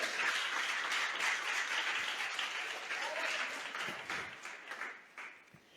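A church congregation applauds during a sermon, dense sustained clapping from many hands that fills the room and gradually thins out toward the end.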